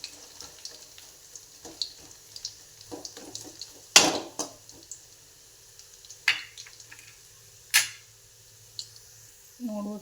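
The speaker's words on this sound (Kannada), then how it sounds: "ಈ ಥರ ಫ್ರೈ ಆಗ್ತಾಯಿದೆ" Peanuts fry in a pan over a low gas flame, giving a soft, steady crackle with scattered louder pops and clinks, close by and without talk.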